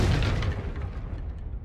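A Confringo blasting spell from Hogwarts Legacy detonates as a single deep, booming explosion, loud at first and then decaying into a rumbling, crackling tail over under two seconds.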